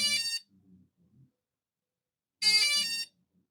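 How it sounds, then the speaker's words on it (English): Startrc T8 Tyro mini FPV drone idle alarm: two short, shrill electronic beeps about two seconds apart, with faint low mechanical clicks between them. "If you leave the drone on with no input for 3 minutes, an alarm will sound to let you know you didn't unplug it."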